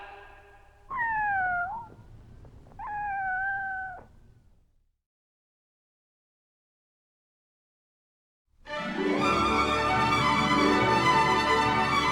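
A comedy record cat sound effect gives two plaintive, wavering meows, followed after a pause by a loud burst of busy music.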